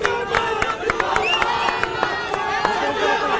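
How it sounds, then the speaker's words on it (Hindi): A rally crowd cheers and claps to welcome an Aam Aadmi Party politician at a political gathering, with voices and whistle-like calls rising over a steady dense murmur and scattered sharp claps. "तो अगली आवाज हम सबके शेर संजय सिंह की जोरदार तालियों से स्वागत करिए"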